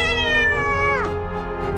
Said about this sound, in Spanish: ¡Cielos! ¡Un gato!